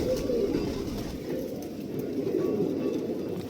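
Elderly pigeons coo steadily and continuously, a low, throaty murmur layered close by, with no talking, in Malihabad, India.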